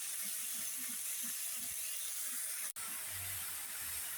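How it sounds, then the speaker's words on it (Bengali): Potatoes frying in a pan with turmeric and salt, a steady, close, broadband hiss and sizzle with a few soft low clinks from stirring. "এখন এই হলুদ আর লবণ দিয়ে আলুটা প্রথমে একটু ভেজে নিব।"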